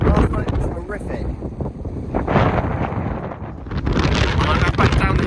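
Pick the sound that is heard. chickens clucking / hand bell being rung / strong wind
strong wind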